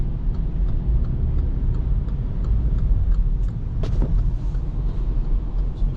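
Low, steady rumble of a car driving along flooded roads after a cyclone, with road noise and engine hum throughout and a brief clunk near the end.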